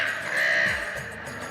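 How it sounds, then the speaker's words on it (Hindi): Crows caw near a fruiting mango tree, a few harsh calls close by and fairly loud, with no talk over them. "सार के अई पर तो कौओ सब मनरा रहल है।"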